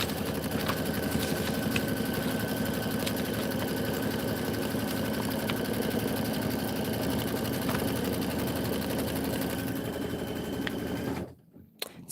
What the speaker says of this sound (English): stitch the background placement line and the seam line